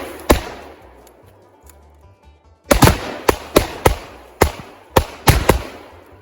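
Rifle shots detonate Tannerite packed in snowmen outdoors: one sharp blast, a pause, then a rapid run of about eight loud booming explosions at irregular intervals, each with a rumbling tail, no talk.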